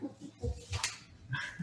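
A dog behind a doggy gate at a town zoning board meeting whimpers and gives a few soft yips and barks, moderately close, with faint room noise.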